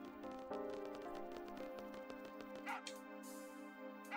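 A dog in Final Fantasy VIII barks and yips a few times over a dense, steady backdrop of game music, the barks short and fairly faint within the mix.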